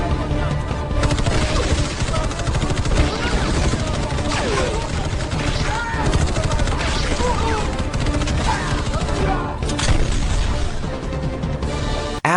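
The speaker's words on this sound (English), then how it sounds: "leading to a shootout." Loud, dense movie gunfire fills a shootout between mercenaries and pirates on a ship. Bursts of automatic fire and crashes run continuously throughout, mixed with a dramatic score.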